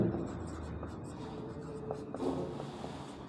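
A pen scratches across paper close up while linear equations are worked out, soft intermittent strokes in quick short bursts, with no speech.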